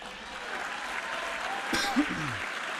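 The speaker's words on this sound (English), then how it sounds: "50 years of SNL, we can applaud for a moment." Brief, fairly faint audience applause at the White House Correspondents' Dinner, a steady patter of clapping under a murmuring room.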